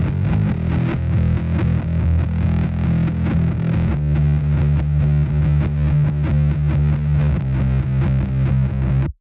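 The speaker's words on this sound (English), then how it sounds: "I recorded my guitar in and then I pitch it down an octave." A heavily distorted, fuzzy guitar tone, pitched down an octave into bass range, plays a chugging riff, thick and buzzy throughout.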